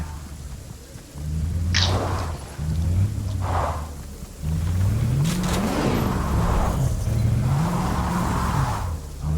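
Car engine driving in Fortnite, a steady loud motor drone with pitch rising and falling as the vehicle accelerates and shifts, continuous with brief dips.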